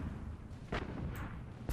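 Artillery units firing in the strategy video game Planetary Annihilation, two or three booming shots in quick succession over a rumbling battle background, loud and close with no voices.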